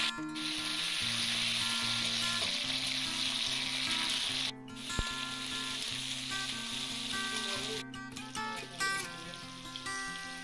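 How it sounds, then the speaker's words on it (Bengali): Chopped tomato tipped into hot oil with dried red chillies gives a loud, steady sizzle with bubbly crackle, a brief break in the middle, then the frying carries on with background music underneath. "একটু নাড়িয়ে চাড়িয়ে এখন টমেটো কুচিটা দিয়ে দেব।"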